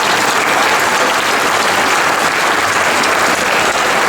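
A crowd at an outdoor action by a collective of performing-arts intermittent workers in Besançon claps loudly and continuously, a thick, even roar of hands with no pause.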